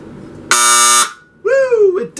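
The vibratone horn of a repaired alarm, plugged in, gives one loud, harsh buzzing blast of about half a second at close range. An excited voice follows right after.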